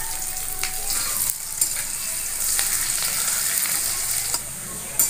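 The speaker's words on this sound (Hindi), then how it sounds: "जीरा चिटक रहा है, अब हम डाल देते हैं लहसुन। कटा हुआ मिर्चा हरा डाल देते हैं।" Cumin, garlic and chopped green chilli fry in hot oil for a potato and beans dish, giving a steady loud sizzle with crackles and the occasional scrape of stirring.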